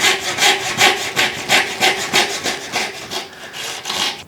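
A hand saw cutting the ends of a wooden panel clamped in a pattern maker's woodworking vise, with quick rasping back-and-forth strokes in a steady rhythm, close and loud, and no voices.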